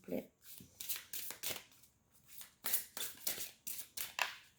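Oracle cards being handled and shuffled close up, a series of crisp riffling swishes in a fairly regular rhythm, with a brief voice at the start.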